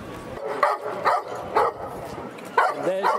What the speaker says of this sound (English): in the kennel there, there's one having a good bark because I think he's a bit jealous